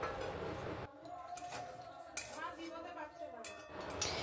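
A utensil stirs oats in a pan with fresh coriander leaves, giving soft scraping and light clinks of metal on cookware that come in short, irregular strokes close by.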